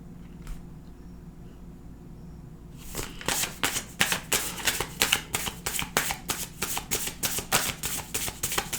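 A deck of tarot cards is shuffled by hand in a quiet room, starting with faint handling and then settling into a steady run of crisp, rapid riffling flaps close to the listener.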